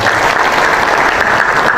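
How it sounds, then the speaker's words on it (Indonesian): An audience applauds a speech to West Java business leaders: dense, loud, continuous clapping from a large crowd throughout. "Tepuk tangan ya"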